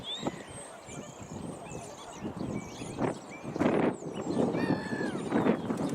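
Coots on a pond give repeated honking, squawking calls at varying distances, some close and loud, others fainter, with splashy movement between them.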